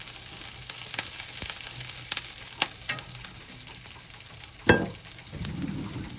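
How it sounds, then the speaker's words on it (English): Onions sauté in butter and olive oil in a cast iron skillet, giving a soft, steady sizzle broken by occasional scrapes and clinks of a utensil stirring, with one sharper clatter near the end. "And I put our onions in already. Just trying to saute these."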